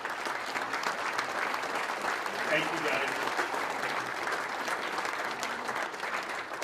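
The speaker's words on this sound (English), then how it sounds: "give them a round of applause" A crowd at a 50th-anniversary hockey celebration gives sustained, steady applause for athletic directors and administration, filling the whole stretch at even loudness while someone briefly speaks over it.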